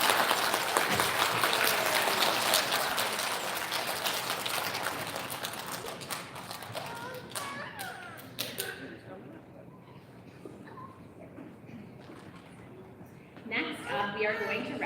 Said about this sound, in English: Nice big round of applause for our youth today.